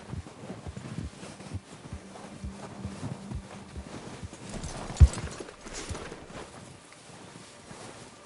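Horse hooves in Red Dead Redemption 2 clip-clop at a slow walking pace over ground, with light wind noise and a sharp thump partway through.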